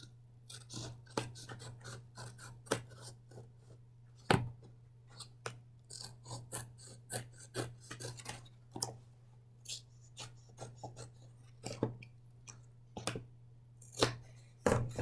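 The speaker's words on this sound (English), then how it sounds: "I'm going to cut that off a little bit." Scissors snip through paper while trimming a groundhog craft, a series of short crisp cuts in an uneven rhythm, close and fairly quiet over a steady low hum, no talk.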